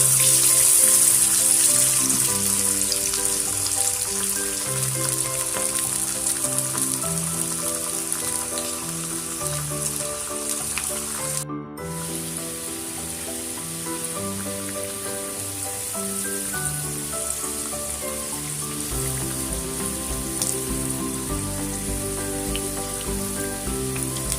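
Continuous crackling sizzle of chana dal masala vadai frying in hot oil, steady and close, with a dense rain-like patter that persists throughout.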